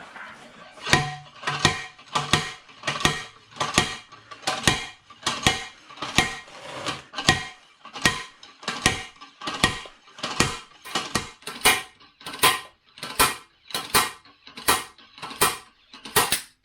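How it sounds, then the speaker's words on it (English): A wrench pulls axle bearings out in a DIY job, making a long series of quiet, regular metallic clicks and ratcheting strokes, each followed by a short pause. The rhythmic clicking continues throughout, close by, with no talk. "I'm just going to use a wrench, make sure that's nice and snug"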